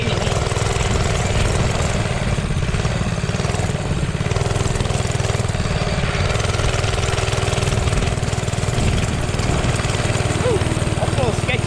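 A JCPenney Bird minibike engine runs continuously at steady revs during a ride around the block, loud and close with a buzzy mower-like drone and no one speaking over it.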